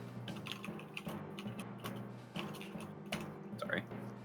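Rapid clicky typing on a computer keyboard, close and steady, with a few louder key taps and faint voices in the background.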